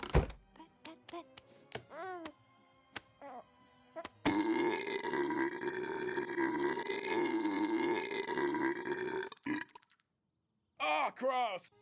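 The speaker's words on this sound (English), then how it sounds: "don't forget to burp him" Baby in a Storks game letting out a long, loud, drawn-out burp after several short squeaky voice sounds, then a final burst of baby noises after a brief silence.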